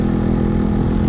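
A Yamaha RX-135 motorcycle, with something loose at the left rear, runs with a steady, close, low engine rumble while a person talks over it.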